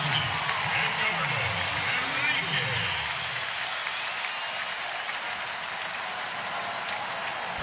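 A baseball stadium crowd at a Dodgers versus Giants game roars and cheers as a pitcher takes the mound, a broad steady wash of noise under a commentator's voice.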